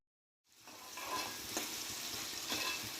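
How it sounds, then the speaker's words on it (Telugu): Green chillies with salt fried and stirred in a pan on medium flame for a village-style tomato chutney; after a brief silence a loud, steady crackling sizzle starts and holds, with occasional spatula scrapes. "పచ్చిమిరపకాయలు కూడా బాగా వేయించుకోవాలి"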